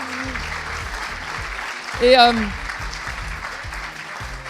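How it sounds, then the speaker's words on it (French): An audience at the SNCF Foundation prize ceremony applauds its prize winners with steady, sustained clapping under a voice, rising briefly louder midway. "Je crois qu'on peut les applaudir."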